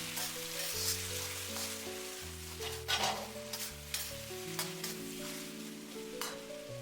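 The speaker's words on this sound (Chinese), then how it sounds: "把炒好的鸡蛋直接倒在锅里，快速翻炒均匀" Eggplant and scrambled egg are stir-fried in a wok, giving a steady close sizzle with sharp scrapes and clatters of stirring, set over background music.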